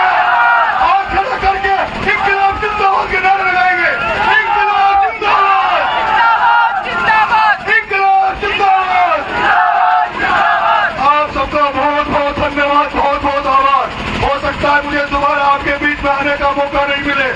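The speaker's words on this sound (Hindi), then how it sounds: "खड़ा करके इनकलाब जिंदाबाद के नारे लगाएंगे" A large crowd at a village panchayat election rally in Devli, Uniara, shouts rhythmic political slogans together, loud voices rising and falling in repeated chanted bursts close by.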